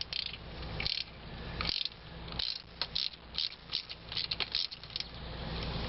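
A ratchet wrench loosens a spark plug on a 2002 Mitsubishi Lancer, producing close, dry clicking runs of pawl ticks that come in short bursts between turns, with no talk.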